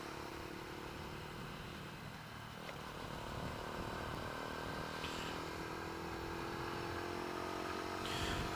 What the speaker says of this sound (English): the motor on this bike is a 125cc liquid cooled motor